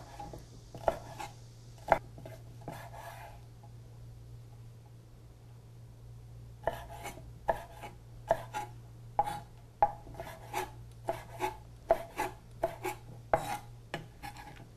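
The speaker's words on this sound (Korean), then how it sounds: "요거는 다른 모양으로 한번 썰어 볼게요" A knife slices squid on a cutting board, a few sharp taps at first, then a pause, then a quicker run of regular chops close by in a quiet kitchen.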